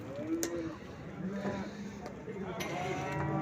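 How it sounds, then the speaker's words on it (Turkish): Dairy cows with calves moo in a busy livestock market in Ankara, low calls mixing with background chatter and crowd noise. "Şurada bir buzağlı inekler var."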